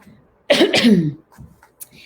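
A single close, harsh cough, followed by a couple of small breathy sounds.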